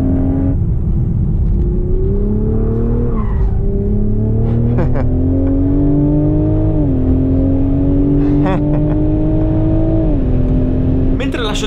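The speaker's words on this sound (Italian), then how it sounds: "Mentre lascio di sottofondo questo giro in cui cerco di spingere, ma la pista è veramente tanto scivolosa" BMW Z4 roadster lapping a slippery race track, its engine loud and close as it revs up through the gears with repeated shift dips and brief tire squeals, while a person talks over it.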